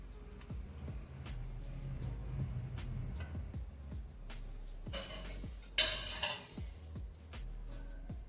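A spoon clinks repeatedly against a cup as coffee and milk are stirred, giving a steady series of light metallic taps, then a brief louder scrape and rustle near the end.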